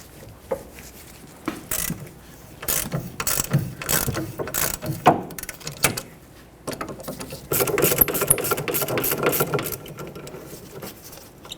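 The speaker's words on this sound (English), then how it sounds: "Use a 14mm socket and remove the 2 bolts holding the caliper bracket onto the knuckle." Ratchet wrench with a 14mm socket backing out the two caliper bracket bolts on the rear knuckle of a 2006-2010 Hyundai Sonata, giving bursts of close, rapid clicking with short pauses between, then a longer steady run of clicks.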